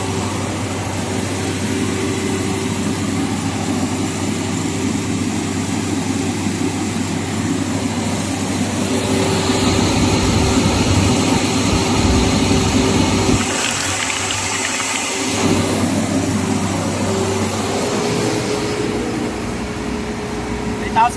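Isuzu Trooper engine held at about 3,000 RPM, a steady loud drone with a constant hum that dips briefly partway through, with people talking nearby.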